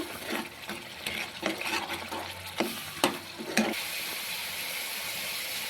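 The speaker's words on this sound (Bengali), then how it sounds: "এবার সব কিছুকে ভালো করে আমি কষিয়ে নেব।" A spice paste of chili powder and salt is stirred and fried in a pan for badhakopir rosha, a cabbage curry. A steady sizzle runs beneath several sharp scraping stirs, and the frying settles into an even hiss near the end.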